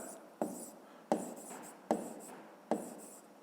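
A pen writes on paper during a physics exercise, four short scratchy strokes landing at a steady pace, close and quiet.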